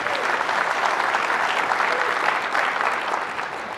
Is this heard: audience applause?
yes